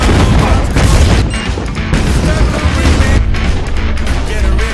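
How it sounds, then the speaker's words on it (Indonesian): Mines going off one after another in a film scene after a detonator is pressed, a loud, sustained barrage of booms and blasts with dense rumbling and crashing throughout, no pauses. "menekan detonator untuk meledakkan semua ranjau yang ada di sana"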